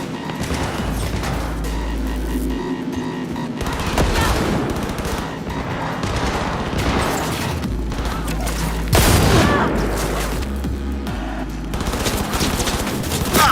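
Rapid automatic gunfire and booming shots in the video game Cyberpunk 2077, loud bursts of rattling fire with heavy impacts throughout, some overlapping and a big crash near the middle, with occasional voice beneath.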